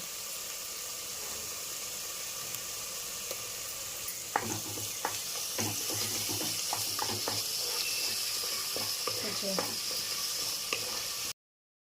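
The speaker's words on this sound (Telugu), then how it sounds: "ఇప్పుడు 2 స్పూన్ల వరకు అల్లం వెల్లుల్లి పేస్ట్ చేసుకుంటున్నామండి" Ginger garlic paste is stirred into a chicken biryani pan with steady sizzling and frying, and a spoon scrapes and clatters in quick strokes close by.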